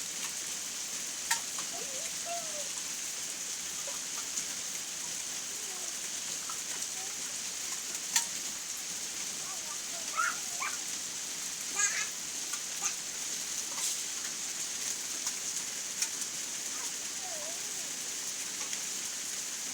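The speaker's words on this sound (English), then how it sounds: "I'll be playing in the rain" Rain falls as a steady, even hiss, with scattered faint drips and small sounds during children's outdoor play near a waterfall.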